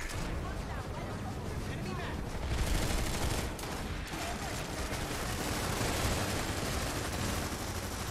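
Planetside 2 gunfire roars in a dense, continuous barrage of many overlapping shots, with a thick wash of battle noise throughout.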